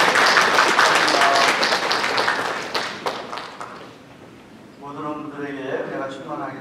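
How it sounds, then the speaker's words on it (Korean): Church congregation applause welcoming newcomers starts loud and fades over a few seconds, then someone speaks alone. "박수로 환영하겠습니다."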